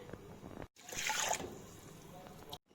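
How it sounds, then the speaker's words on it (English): Four tumblers of water poured into a cooking pot for a kashayam medicinal drink, a short splashing trickle that swells then fades, bracketed by brief silent gaps. "Now add 4 tumblers of water in it."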